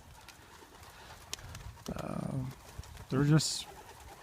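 Pigeons at a racing loft for the Hoosier Classic give a couple of short cooing bursts, near and moderately loud, with someone speaking briefly over the birds.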